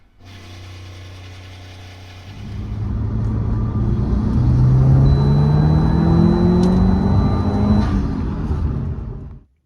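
The EJ207 engine in a 2005 Subaru WRX STI, running full boost again after a boost control fix, idles briefly, then revs up hard with a rising whine and a loud roar that holds for several seconds before cutting off.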